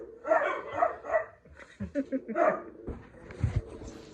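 Dogs whine and yelp in bursts close by, with short excited barks and rustling movement between the cries.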